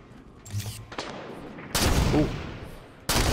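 A DMR rifle fires in the shooter game Halo 5: Guardians, with a few faint clicks leading into two loud, sharp shots, each ringing out with a decaying tail.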